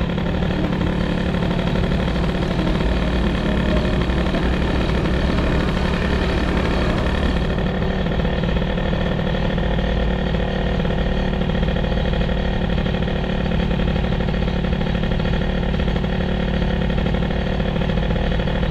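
Peugeot 103 moped with an air-cooled hybrid setup and short belt, its small two-stroke engine idling steadily and close for the whole stretch, a constant buzzing drone with slight unevenness and no talking.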